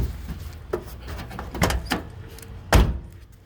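A truck door swings shut with a solid, close thunk, preceded by a few lighter clicks and knocks from the latch and body.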